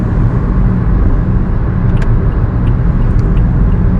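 A steady, loud Toyota Yaris VX engine roar with heavy low rumble, continuous and close, under hard acceleration from 0 to 100 km/h.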